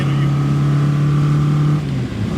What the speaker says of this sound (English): we're just braking out into the corner, coming around again, tyres are a little bit warmer